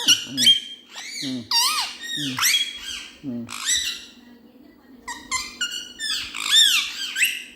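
A pet talking parrot squawks close up, giving a rapid string of harsh, squeaky calls and whistling chirps in uneven bursts, loud and alone.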